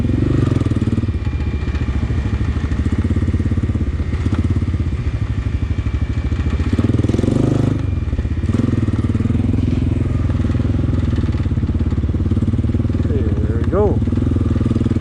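A Honda dirt bike crawls slowly over rough terrain, its engine putting out a loud, continuous low chugging that rises and falls slightly with throttle, close and dominant throughout.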